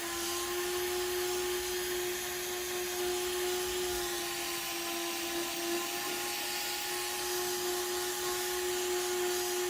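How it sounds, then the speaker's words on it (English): A steady, high-pitched whine of a power sander sanding a guitar body runs continuously at an even level, with no pauses or voices. "There happens to be a hell of a lot of sanding in making guitars."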